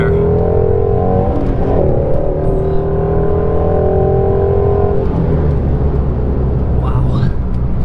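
A Ford Mustang Shelby GT350 engine climbing toward its 8,200 RPM limiter, a loud close rising howl with steadily climbing pitch that drops back after a shift, while someone talks over it.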